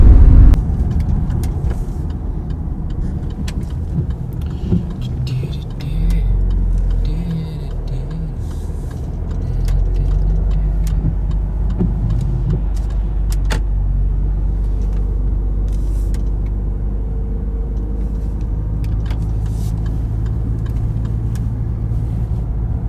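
A Land Rover Discovery Sport drives on the road, heard from inside the cabin as a steady low engine rumble and road drone, with slight shifts in pitch as it changes speed.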